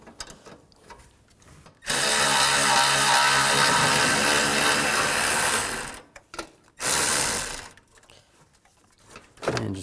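Bolt being run out with a 12mm socket on a 2013-16 Nissan Sentra during radiator work: a loud steady whir for about four seconds, then a shorter second burst after a pause, with quiet handling noises between them.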